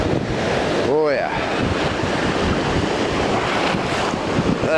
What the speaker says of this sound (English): On a hot day, there's nothing like the ocean.